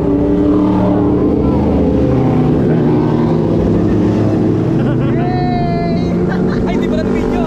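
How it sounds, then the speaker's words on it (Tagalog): Large motorcycles pass by on a mountain road, a loud, steady engine roar that swells and shifts in pitch as they go, with people talking throughout. "sakto ay may dumaan na mga big bike"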